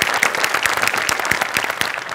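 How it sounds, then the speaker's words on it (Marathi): Loud applause from an audience after a performance, rapid dense clapping from many hands with a few sharper individual claps standing out, continuous and close. "जोरदार टाळ्या"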